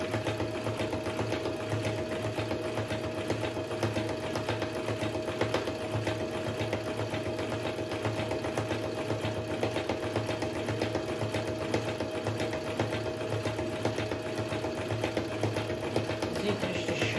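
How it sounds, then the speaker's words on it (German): A Brother Super Ace SE model 947 sewing machine stitching steadily on its own, a continuous close-up mechanical whirr with a rapid, even needle rhythm that holds at one level throughout. "die Nähmaschine macht alles alleine"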